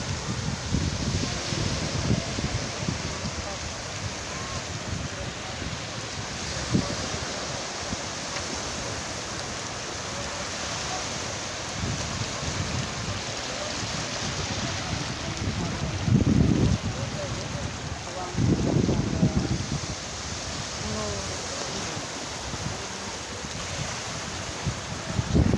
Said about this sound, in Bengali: বিশাল একটা ঢেউ, বিশাল এক ঢেউ।